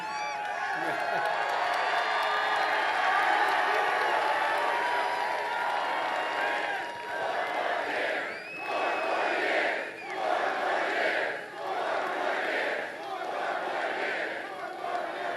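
Large political rally crowd cheering and shouting in waves, a dense roar with rising whoops and chants that swell and dip repeatedly, heard at a distance throughout.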